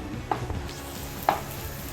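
A spoon stirs thick pineapple halwa just after ground cardamom goes in, giving two soft scraping strokes against the pan over a quiet background.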